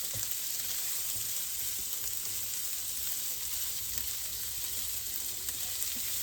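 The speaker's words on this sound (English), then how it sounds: "And I'm just going to saute these up a little bit." Onions and scallions sauté in a pan, giving a steady, close sizzle and crackle that runs unbroken throughout with no talk.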